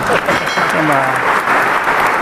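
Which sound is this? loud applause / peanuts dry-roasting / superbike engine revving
loud applause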